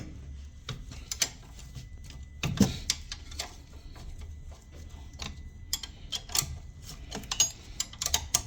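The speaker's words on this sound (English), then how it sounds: "removing our 213mm bolts from the caliper" Metal bolts on a rear brake caliper with an electric handbrake being undone and removed, giving scattered sharp ticks, clinks and ratchet-like clicks at close range, with no voices.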